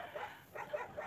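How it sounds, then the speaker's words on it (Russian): Dogs barking in the distance, a few faint, short yips and bow-wows in quick separate bursts, quiet and alone with no talk. "Ну, конечно, залаяли собаки"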